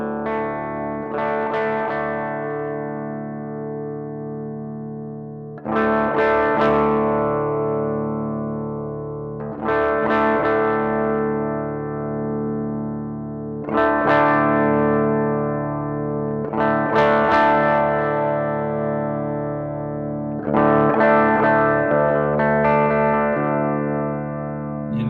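Clean-channel electric guitar through a Flatsons FBA-10 10-watt amp, heard from its headphone output with controls at noon; five strummed chords ring out and decay in a slow, steady rhythm, raw and moderately loud, with no talking.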